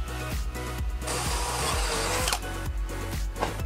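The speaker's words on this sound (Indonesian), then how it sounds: "Selanjutnya kita akan bor. Ukurannya adalah kita sesuaikan dengan bawaan dari klemnya." A power drill bores an 8 mm hole to fit a clamp, with a steady loud motor whine under rhythmic, pulsing grinding as the bit cuts, close up and continuous with no talk.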